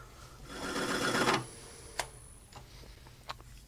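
A texturing tool chatters against a turned wooden kitchen canister on the lathe, a close buzzing rattle lasting about a second, followed by quiet lathe hum and a couple of faint clicks.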